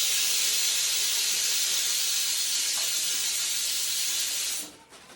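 A kitchen pressure cooker vents steam in a loud, continuous hiss that holds steady for several seconds, then cuts off abruptly near the end, leaving a quiet tail.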